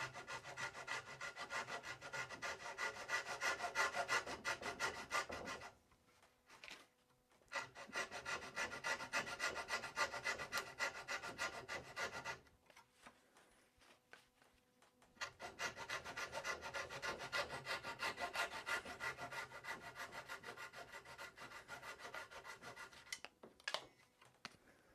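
Japanese flush cut saw rasping through a wooden plug in a chair, three long runs of quick rhythmic back-and-forth strokes with short pauses between, close and clear.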